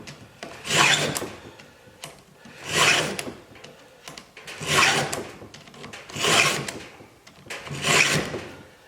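Hand file sharpening a chainsaw chain, five evenly spaced rasping strokes about two seconds apart, close and moderately loud, with quiet pauses between and no talking.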